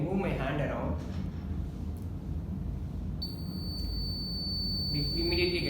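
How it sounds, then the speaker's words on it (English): An IR-sensor burglar alarm circuit emits a steady, high electronic beep that starts a few seconds in and holds as a sustained tone over low background noise. "we immediately get a beep indicating the occurrence of a theft"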